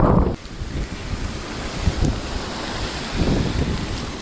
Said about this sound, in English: Bit blowy, isn't it?